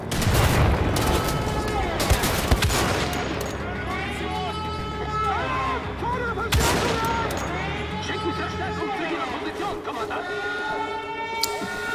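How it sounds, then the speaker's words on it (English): Grenades thrown and going off in a Wolfenstein: The Old Blood docks battle, with sharp blasts near the start and again midway amid gunfire and a wailing siren-like tone, with talking over it. "Okay, that's how I throw out my grenades."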